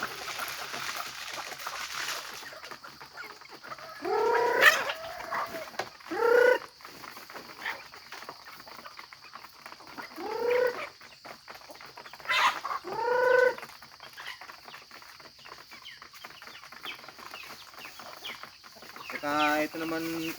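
A hen with nine chicks being fed whole and cracked corn: low throaty clucks and purring calls come in scattered bursts, close by, with faint high peeping and someone talking between them.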